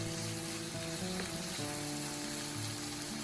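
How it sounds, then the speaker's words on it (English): Frozen eggplant frying in a pan, sizzling steadily and loudly close up while being gently stirred, with faint scraping movements through the continuous crackle. "Give everything a few gentle stirs."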